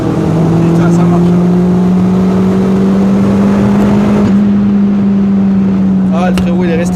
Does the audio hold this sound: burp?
no